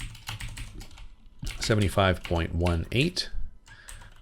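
Computer keyboard keys tap in quick, light clicks while numbers are entered, spread out under a person talking at close range.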